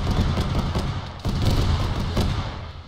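Rapid bursts of gunfire ring out in a military video game battle set in a wintry Chernarus, loud and close, with repeated sharp cracks and thumps filling the scene.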